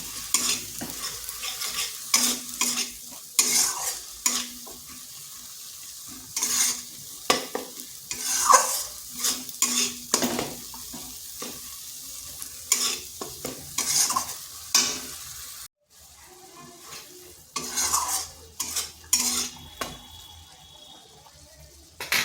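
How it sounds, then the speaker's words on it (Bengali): Turmeric, coriander and Kashmiri chili powder masala sizzles in a pan for a fish curry as a spatula stirs and scrapes it repeatedly. The uneven strokes and frying hiss are close and continuous, with a brief lull partway through and no talking. "এবার মশলাটা একটু কষে নিতে হবে"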